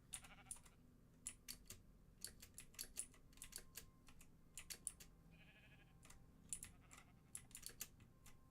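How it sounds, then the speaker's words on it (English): Fast, uneven clicks from a computer keyboard being typed on during a Minecraft survival session, faint and slightly muffled, with short bursts and brief pauses and no talking. "How does the keyboard sound now?"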